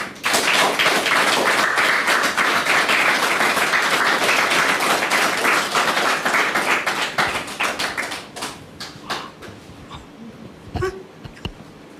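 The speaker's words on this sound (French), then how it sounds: "Merci de la recevoir avec vos applaudissements" Studio audience applauding loudly for several seconds, dense clapping that thins out into scattered claps and fades near the end.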